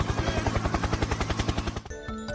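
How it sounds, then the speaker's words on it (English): A rhythmic helicopter sound effect with fast, evenly spaced rotor thumps at steady loudness, cutting off abruptly near the end. "Helicopter, helicopter!"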